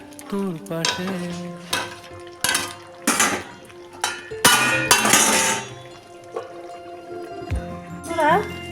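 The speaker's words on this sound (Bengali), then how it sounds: "এখন আমি পুরো ঢেকে দেবো" A pot of potato, pointed gourd and prawn curry gets its lid handled, with repeated metallic clinks and clangs of lid and utensils against the pot. Some soft sizzling sits underneath, and someone talks over it.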